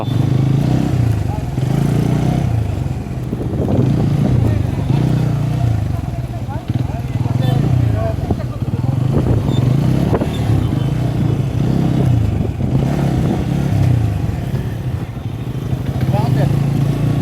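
A Bajaj Pulsar N160 motorcycle rumbles steadily close by as it is ridden around at a dealer's outdoor event, its engine note pulsing under ongoing talk and crowd noise.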